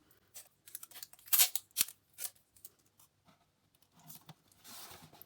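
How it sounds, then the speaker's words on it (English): Sticky tape pulled and pressed onto a cardboard box during a craft project, quiet close rips and rubbing scrapes in irregular bursts with brief silences between. "I'm just going to tape this end down to stop that flapping around."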